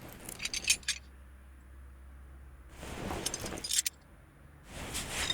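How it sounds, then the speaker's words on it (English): Ignition coils are pulled from an engine in Car Mechanic Simulator 2018, giving three short bursts of light metallic clinking and rattling between quiet gaps. "the ignition coils are toast. We're going to need to deal with those. Let's grab them out right now."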